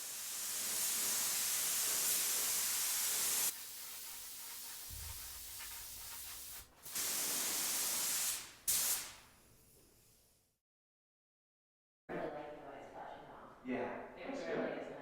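A 3M Performance spray gun with a 1.4 tip lays down base coat in a loud, steady hiss lasting several seconds, then shorter bursts follow before a brief silence. Talk is heard afterward.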